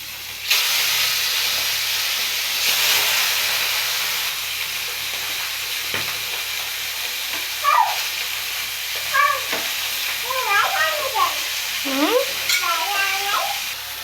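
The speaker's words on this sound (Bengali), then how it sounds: "মাছগুলো ভালোভাবে ভাজা হয়ে গেছে" Bhetki fish pieces coated in salt and turmeric frying in hot oil give a steady, close sizzling hiss that runs throughout, while a cat meows several times in the second half.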